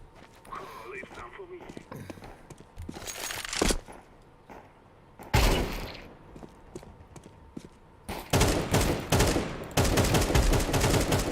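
Gunfire fills a Counter-Strike 2 match in loud clustered bursts and rapid volleys separated by quieter stretches, with someone talking over parts of the action.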